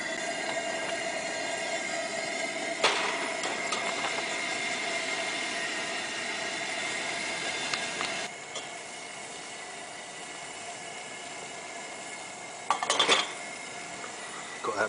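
Water in a pot on a camping stove during a windy forest camp, a steady hiss and rush of boiling and burner noise, with a few metallic clinks of the pot.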